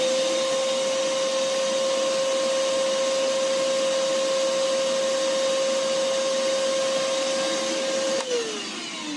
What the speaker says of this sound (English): now you know that you can vacuum out your ocean from the electrical outlet